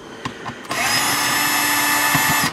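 Power drill whirring steadily for nearly two seconds while backing Phillips head screws out of the dashboard of a 2001-2005 Honda Civic during a head unit radio swap, close and loud, with brief clicks before and after.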